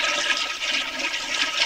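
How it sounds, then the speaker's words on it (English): A toilet flushes in a steady, hissing rush of water, close and continuous for the short span, with no talking over it. "sounds like a perfectly healthy flush"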